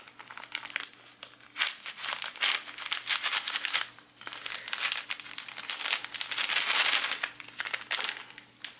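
A packet of powdered Ayurvedic hair mask is shaken hard, giving loud, close crinkling and rustling of packaging in irregular bursts with short pauses between them, with no talking.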